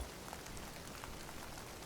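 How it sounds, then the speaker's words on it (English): Steady rain patters evenly on a surface in the cozy cabin-building game Log Away, a soft, unbroken hiss with no other sounds. "now we're going to get fireplace and rain sounds"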